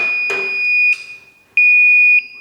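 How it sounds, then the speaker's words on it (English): A Twin Busch TWS3-10E car lift sounds its warning buzzer while lowering in a home garage: a shrill, steady electronic tone in two loud bursts with a short gap between, with a clunk at the start. "So you got the buzzer and the red light flashing when you're going down for the warning."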